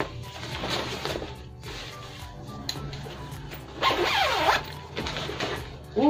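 Zipper on a square ring light carrying bag being opened by hand, heard close up as a few rasping pulls of varying length separated by short pauses and rustling.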